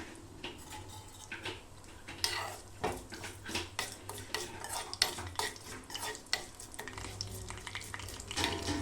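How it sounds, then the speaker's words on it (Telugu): A tempering of chana dal, cumin, curry leaves and dried red chillies fries in a pan for pappu charu, with a soft sizzle under repeated close metallic scrapes and clinks of a spoon stirring against the pan. "తాలింపు ఫ్రై అయిపోతుంది."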